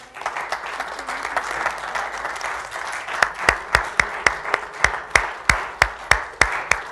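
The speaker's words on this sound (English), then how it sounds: "Let's give them a round of applause, shall we?" A church congregation applauds in a steady wash of clapping that thins out until a few close, loud, evenly spaced claps carry on alone near the end.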